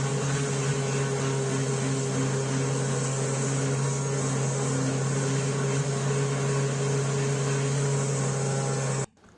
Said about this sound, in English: I finished the board with a vibration sander.